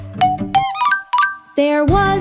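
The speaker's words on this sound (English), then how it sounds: "Now squeak your rubber ducky." A rubber duck toy gives several squeaks of rising and falling pitch in short bursts, loud and close, set within a cartoon song for children.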